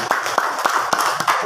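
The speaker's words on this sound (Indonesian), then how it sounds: "Tepuk tangan." An audience in a primary school teachers' talk show in Majalengka breaks into brief scattered clapping, a handful of sharp claps over a few seconds near the microphone.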